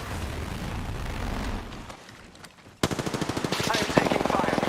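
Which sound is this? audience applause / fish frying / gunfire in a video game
gunfire in a video game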